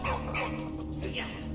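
A dog in the World War I video game Valiant Hearts barks and yips in several quick, fairly close bursts over a low, steady game background hum.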